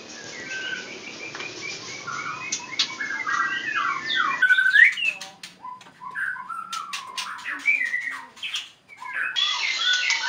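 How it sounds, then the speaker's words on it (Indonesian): Several white-rumped shamas call nearby at a breeding facility with varied whistles, chirps and squawks, overlapping in bursts with short pauses between. "Disinilah tempat penangkaran burung murai batu"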